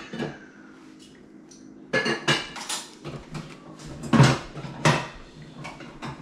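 Glass canning jars clinking and knocking on a kitchen counter while homemade wild crabapple butter is jarred, several sharp irregular clinks close by with a quiet lull before them.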